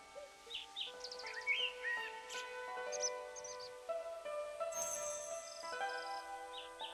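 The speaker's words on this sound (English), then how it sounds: "So, do you like the birds that sneak in here?" Birds chirp at night in the game Where Winds Meet, with quick bright tweets and trills scattered over soft string music and no one speaking, faint and fairly close.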